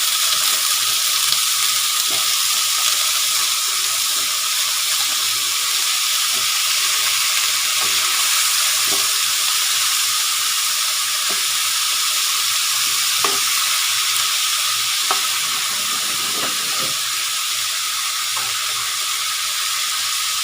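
Eggplant stir-fries with pork in a hot pan, a loud, continuous hiss of frying broken by occasional spatula scrapes and taps.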